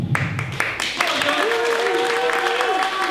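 Wrestling event crowd applauding in an indoor venue, a dense steady clapping close and fairly loud throughout, with a long whistle-like tone rising through the middle.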